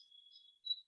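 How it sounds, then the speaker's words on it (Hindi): Crickets chirping near green trees and plants in an evening outdoor setting, a faint thin high trill followed by a slightly stronger short chirp, alone with no talk. "आवाज आ रही है झिंगुर की।"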